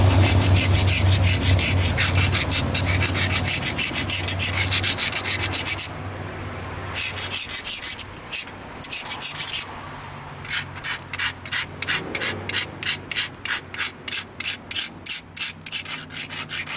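Obsidian spear head being ground by hand, a steady rasping scrape repeated in quick rhythmic strokes, close and fairly loud, with brief pauses between bursts and no talking.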